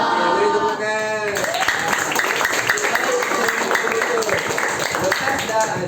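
A classroom or gathering audience breaks into steady clapping right after a call to prayer, the applause filling the whole stretch loudly with mixed voices underneath.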